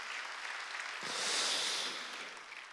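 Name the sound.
congregation applauding in church service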